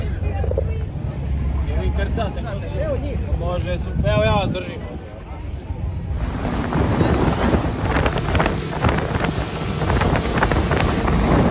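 A speedboat runs fast across the open Adriatic Sea near Split and Trogir, Croatia. Steady engine roar and rushing wind and water fill the clip, with people talking over it early on.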